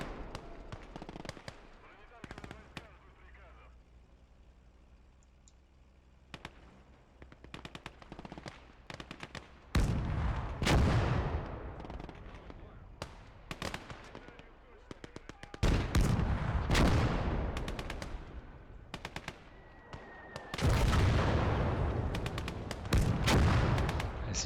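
Mortar and artillery fire thunder in the WWII strategy game Gates of Hell during a 1v1 PvP match: loud, booming bursts and rattling volleys come in clusters, with quieter gaps between them, under a person's commentary.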